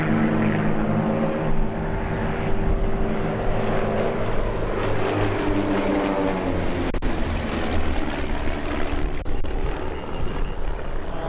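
An RV series kit-built aerobatic aircraft flying at the Oshkosh EAA AirVenture airshow, a loud sustained propeller engine drone with shifting pitch as it passes, continuous throughout without speech.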